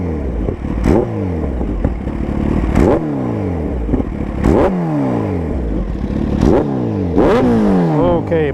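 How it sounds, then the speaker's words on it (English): A 2016 Kawasaki Ninja H2 supercharged motorcycle engine is blipped repeatedly, with four or five sharp, loud revs rising and falling in quick succession from a rumbling idle, close and alone. "I also want you guys to see how little I rev it."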